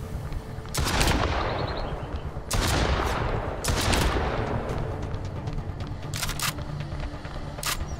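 Cannon firing cannonballs in a video game, a series of sharp loud blasts at irregular intervals, some spaced a second or more apart and a few close together, over a busy rumbling background.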